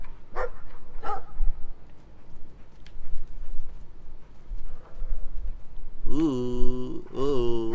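A dog barks in the video game Brothers: A Tale of Two Sons, a few short barks early on, then two drawn-out whining yelps near the end, moderately loud over a quiet game background.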